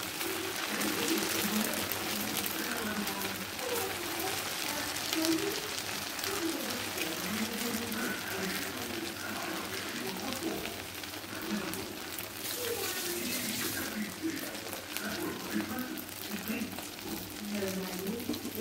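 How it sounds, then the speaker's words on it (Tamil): Chilli idli pieces dropped into hot oil and deep frying, a steady dense sizzle and bubbling that carries on throughout, loud and close, with no pause. "இப்போ நம்ம சில்லியை போட்டு பொரிச்செடுத்துடலாம்."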